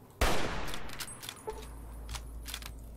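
A single loud gunshot rings out in Fallout New Vegas, followed by a few fainter distant shots and clinks over a low steady rumble.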